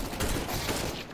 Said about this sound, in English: I'm gonna Mac 10 them because I'm the fucking Mac 10 god